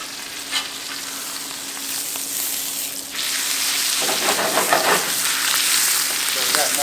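Elk meat sears hard in a hot pan, a loud steady sizzle and crackle that swells and grows busier partway through, close up with no talk over it.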